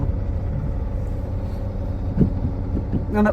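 A car pulls away slowly in first gear on a busy road, its engine a low steady rumble with a couple of brief knocks and a rising sound near the end.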